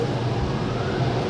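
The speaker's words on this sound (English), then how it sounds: "Then we have these Nustar dryers here that kick on in a second." Nustar car wash dryers blow in a steady, loud roaring rush, a broad constant whoosh with a low rumble underneath and no break through the brief moment.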